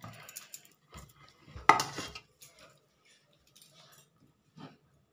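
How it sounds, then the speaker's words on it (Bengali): A knife cuts tomatoes into small pieces, making a few soft, irregular taps and clinks against the board in a quiet kitchen, with one sharper knock partway through. "টমেটোগুলো কেটে নিচ্ছি কুচিয়ে।"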